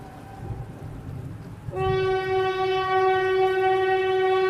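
A cartoon train sound effect: low rumbling running gives way at under two seconds to a loud, sustained train horn blast that holds steady to the end, with no talk.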